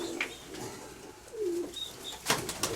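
Pigeons in a loft coo softly in low rolling calls with a couple of thin chirps between them, and a sharp flutter or scuffle near the end, all close and fairly quiet.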